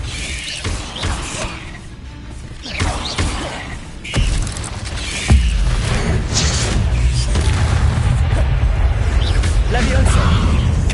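A Confringo spell explosion in the video game Hogwarts Legacy, heard as several heavy booms and crashing thuds among busy combat noise, with a strong hit near the middle followed by a dense rumbling wash, and a voice talking over it.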